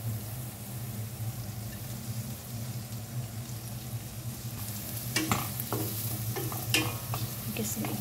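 Onions sauté in a pan for carbonara, giving a steady low sizzle with a faint hum behind it. Sharper scraping stirs break in during the second half, close and moderately quiet.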